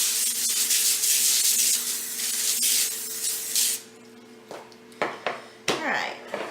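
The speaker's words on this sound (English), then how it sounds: "we're just going to spray that with some non-stick cooking spray" Non-stick cooking spray hisses out in one long burst of close, bright aerosol onto a foil-lined pan, followed by short crinkles and light taps of the pan.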